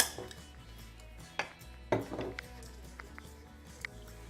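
Spoon clinks and scrapes in a bowl as oil and coconut sugar are stirred together for cherry almond muffins, a few sharp knocks standing out over a quiet kitchen background, with no talking.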